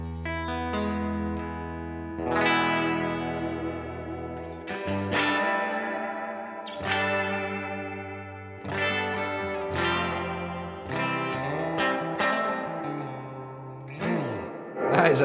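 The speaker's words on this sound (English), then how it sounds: "So the reverb was set at 3. Let's try it at 7," Electric guitar played through a small Fender amp with reverb turned to 7, strummed chords and picked notes ringing out in washy, lingering tails, with no talking.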